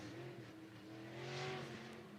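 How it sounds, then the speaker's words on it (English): IMCA Sportmod race car out on a dirt track during qualifying, its engine a faint, steady drone with rising and falling pitch as it laps at a distance, no speech over it. "Is the 21st car to hit the track here in qualifying"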